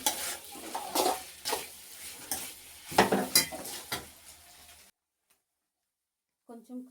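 A spoon stirs turmeric through sizzling food in a cooking pan, scraping and clinking in uneven strokes for several seconds before the sound cuts to silence, with a faint clatter at the end.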